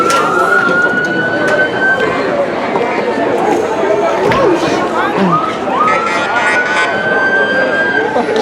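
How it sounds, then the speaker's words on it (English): A police car siren wails as law enforcement arrives at a collision scene, its rising and sustained tone carrying over a murmuring crowd and background chatter throughout. "Today we have law enforcement arriving first on scene."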